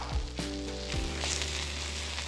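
A cheeseburger patty sizzles on a Blackstone griddle, a steady close hiss of frying fat, with a couple of low thuds from the spatula early on.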